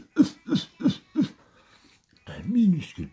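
In a children's farmyard story, animals cough in a burst of four quick coughs, then a long rasping hack, spoken close in an exaggerated, voiced imitation by a storyteller.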